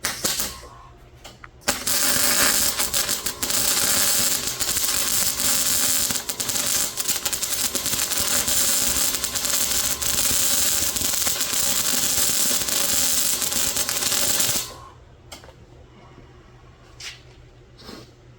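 A MIG welder lays beads on a square body truck near the shock, giving a loud, continuous, close crackling sizzle for about twelve seconds before stopping abruptly, with no talking.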